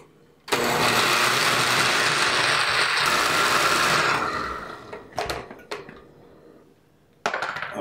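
A blender loudly whirs through leeks and other ingredients for a sweet potato hash, running steadily for about four seconds before winding down, followed by a few short clattering bursts and a brief restart.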